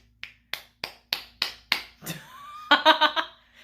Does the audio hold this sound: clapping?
yes